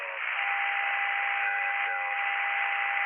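Two steady electronic test tones routed through a Soundcraft Ui24R digital mixer, a constant band-limited hiss-like signal with a pure sustained tone, held at an even level without any pause.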